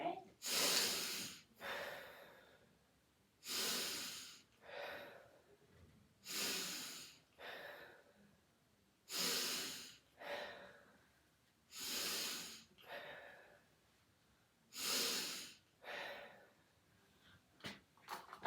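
A patient breathes deeply during a nursing head-to-toe assessment, with about eight slow, regular breaths close to the mic. Each one is an audible airy inhale or exhale separated by quiet pauses.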